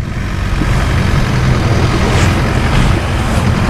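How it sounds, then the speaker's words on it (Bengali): Long-tail boat engine off Phi Phi Island, Thailand, a steady low diesel drone and rumble holding constant and fairly loud throughout, with water and wind noise over it and no talk. "এখানে আমরা এই যে লং টেল বোট নিয়ে এসেছি।"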